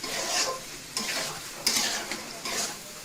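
A chicken gravy with potatoes and sweet yogurt is stirred in a pan, a spoon scraping through the sizzling mixture in four or five repeated strokes over a steady frying hiss, with no voices.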